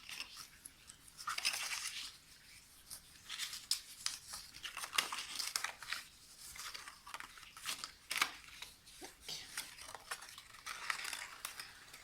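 Paper for a small scrapbooking treat box being creased along fold lines, giving a run of crisp crinkling and scraping strokes, close and fairly quiet, with no talking.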